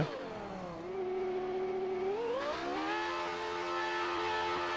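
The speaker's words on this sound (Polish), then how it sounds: "czy słyszycie ten e, furgot silnika? To jest coś pięknego, coś niepowtarzalnego." The engine of a 1998 McLaren F1 car revs in the F1 2019 racing game at the China event, a steady, buzzy, high-pitched whine that dips and then climbs in pitch, heard on its own.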